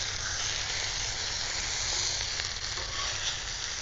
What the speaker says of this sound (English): the chicken up here, cooking on the griddle, a large griddle cast iron.